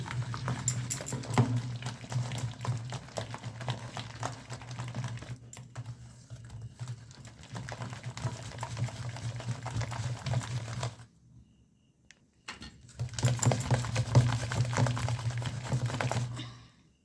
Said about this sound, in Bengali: নুন আর হলুদটা দিয়ে ডালটা আমি ভালো করে ফেটিয়ে নেব